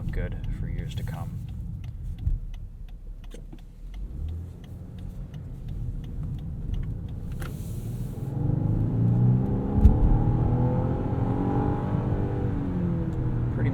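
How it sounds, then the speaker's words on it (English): A 2018 Lexus LS 500 AWD with a twin-turbo V6 accelerates, its engine note rising and swelling in the second half from inside the cabin, with steady road rumble throughout. "Plenty of power from that twin turbo V6."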